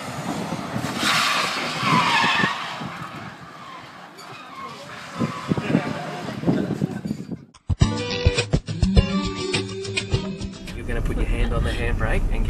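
Car tires skid and squeal under hard braking during a fast driving session, a rough broadband rush with engine noise and people talking, followed by a clattering, choppy stretch.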